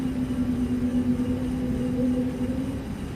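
Airbus A320neo engines in X-Plane 12 hum steadily as power comes up, a constant droning tone over low rumble that holds nearly level and eases slightly at the end.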